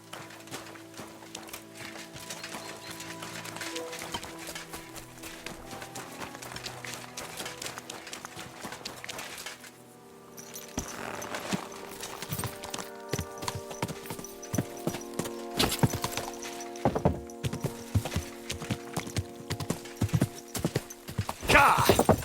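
Steady clip-clop of horse hooves at a trotting pace in the video game Kingdom Come: Deliverance II, joined later by faster hoofbeats and a clatter of game sounds, continuous throughout with no talking.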